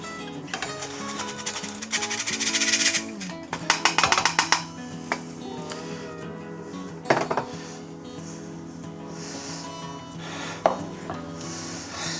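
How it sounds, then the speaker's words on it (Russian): Rhubarb, sugar and flour stirred together in a bowl for a homemade rhubarb pie, with repeated scraping and clinking of a utensil against the dish, busy at first and then easing into softer intermittent rubbing and taps. "промешаю наш ревень с сахаром. Итак, теперь постепенно мы сюда добавляем муку."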